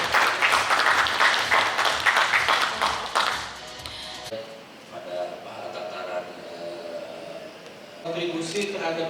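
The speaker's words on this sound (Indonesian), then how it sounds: "Berikan tepuk tangan yang meriah Bapak dan juga Ibu." Audience applause breaks out at an Indonesian industry ministry event at Hannover Messe, a dense clapping wash for about four seconds before it fades and a speaker resumes talking over the room.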